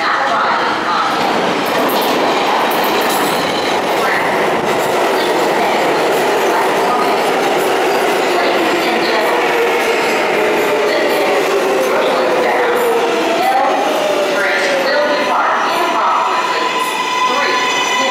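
An R143 subway train on the L line in New York City rolls into the 6th Avenue station and pulls out again, bound for 8th Avenue. Its loud, steady rumble and wheel noise fill the whole stretch, with rising whine and rail squeal near the end.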